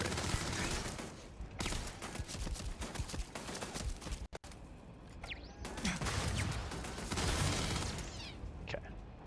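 Rapid bursts of turret gunfire in the Starfield video game, dense rattling volleys that break off briefly and then resume in a second long stretch, with mechanical clatter and a voice speaking over the fight.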